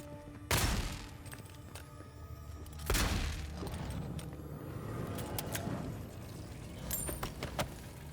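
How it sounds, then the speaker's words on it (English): Gunshots in the Avowed video game: two loud, sharp blasts a few seconds apart with a ringing tail, followed by quieter clatter and scattered clicks. "Gunshots are quite loud in this game"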